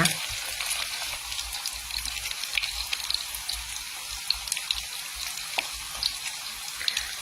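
Pork belly frying in oil, a steady hiss and fine crackle with scattered pops, continuous and close, no voices.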